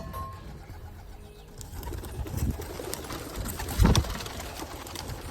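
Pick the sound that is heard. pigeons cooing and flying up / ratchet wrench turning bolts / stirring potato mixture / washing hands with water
pigeons cooing and flying up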